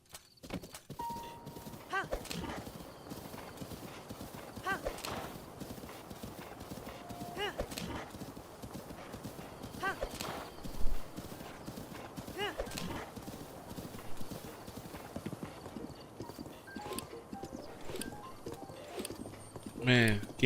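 A horse in a Zelda game on Master Mode, with continuous rhythmic galloping hooves, a few whinnies and neighs, and a person talking over the gameplay.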